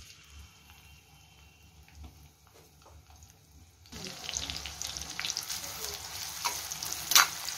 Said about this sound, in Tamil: வெங்காயத்தை போட்டு நல்லா வதக்கிக்கோங்க.